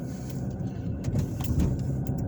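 Weekend street traffic in downtown Indianapolis, a steady wash of passing cars with a low rumble throughout and occasional brief louder swells as vehicles go by nearby.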